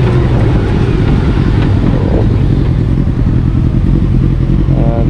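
A 2020 Honda GoldWing Tour DCT motorcycle ridden in sports mode produces a loud, steady engine drone mixed with heavy wind rumble, held continuously without a break.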